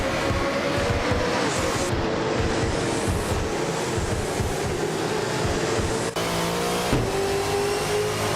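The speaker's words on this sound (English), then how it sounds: "Ginchu 22 is driving a 2018 Holden Commodore ZB." A 2018 Holden Commodore ZB V8 supercar racing at Albert Park, its engine a loud, continuous high-revving whine with shifting pitch and a brief dip partway through, heard alone with no talk.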